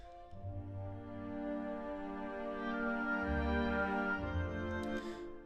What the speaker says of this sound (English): there was pizzicato bass that sounds like this.